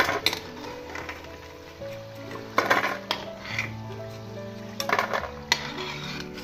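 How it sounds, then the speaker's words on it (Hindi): Pakoras turned over in a pan of hot oil, bright metallic clinks and scrapes of a spoon against the pan in a few short bursts over a low hiss, close by with no voices. "थोड़ा सा और इन्हें अलग पलट देती हूँ सभी पकौड़ियाँ"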